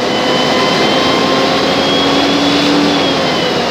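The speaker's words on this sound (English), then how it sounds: "the truck knows and it speeds the engine up" Modern fire engine's diesel revving up as it pumps water, a loud, steady roar with a rising whine over the whole stretch, with no talk.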